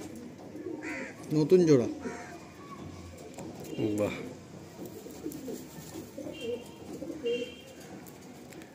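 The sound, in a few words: Madrasi pigeons cooing in a loft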